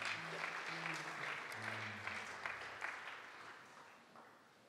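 A church congregation applauding during a French-language service, a dense, fairly distant clapping that gradually fades, with faint voices mixed in.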